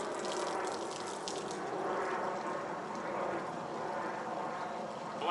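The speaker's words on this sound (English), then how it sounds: "I'm using the water feed right out of the power washer without the nozzle" Water from a power washer's feed hose, run without a nozzle, gushes steadily through a foam cannon to rinse it out, a constant close splashing rush with no pauses.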